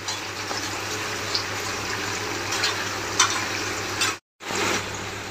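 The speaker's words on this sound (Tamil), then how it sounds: "வெங்காயம் வந்து நல்லா பொன்னிறமா வறுக்கிற வரைக்கும் வெயிட்" Onions frying in a pan until golden for chicken biryani, a continuous dense sizzle with occasional stirring clicks, a brief dropout near the end, no talking.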